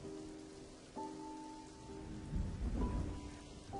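Steady rain pours down in a thunderstorm, with a deep rumble of thunder swelling midway and fading, while soft sustained tones hum underneath.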